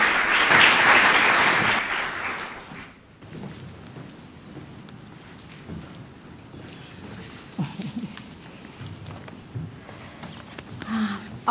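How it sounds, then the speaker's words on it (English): An audience applauds panelists at a panel event, a loud dense burst of clapping that peaks at the start and fades within about three seconds, leaving quieter room noise and murmuring. "please extend a warm round of applause for all our panelists"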